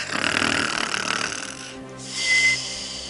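Several children's voices imitate snoring together, a breathy rasping snore followed by a short snorting exhale, close and playful.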